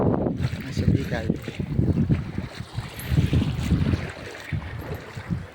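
A small outrigger bangka boat crosses open water toward Suguicay Island at low tide, its engine thumping under gusty wind buffeting the microphone while people talk over the noise.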